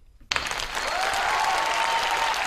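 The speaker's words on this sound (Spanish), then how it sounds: "pido un aplauso para ella" A studio audience on an Argentine radio-TV talk show bursts into applause after a brief silent lead-in, a dense, steady ovation that holds loudly to the end.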